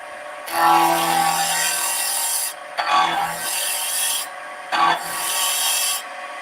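A spindle roughing gouge cuts a wooden spindle on a lathe, making three long rasping, scraping passes separated by brief pauses, close and clear over the lathe's low hum.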